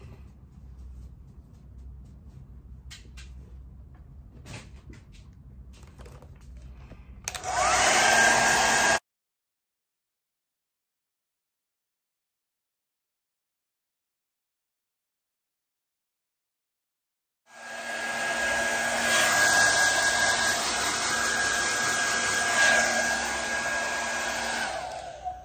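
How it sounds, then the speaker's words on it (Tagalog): A handheld hair dryer blows on freshly dyed hair in two bursts, a short loud whir that cuts off abruptly, then a long steady blast after a silent pause. "So, i-dry na natin yung hair natin."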